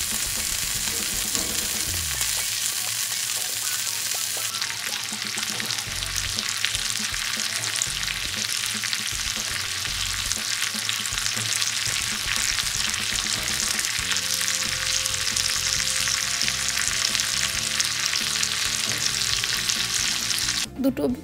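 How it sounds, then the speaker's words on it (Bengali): Tandoori chicken pieces frying in a pan, a loud, dense sizzle that runs unbroken and close throughout, with occasional stirring or shifting noises partway through. "দুটো চিকেনকে কিন্তু ভালোভাবে একটু ফ্রাই করে নিতে হবে।"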